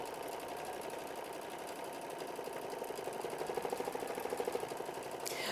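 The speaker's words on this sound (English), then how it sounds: "So this one's going to take a little bit of time to sew out." An embroidery sewing machine stitching out a quilt block, a fast steady mechanical whir with rapid needle ticking, close and continuous, with no talk.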